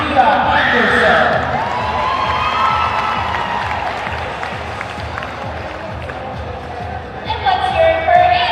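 A large crowd at a high school cheerleading state finals applauds and cheers continuously, with whoops and shouts rising and falling, while an announcer's amplified voice speaks over the noise.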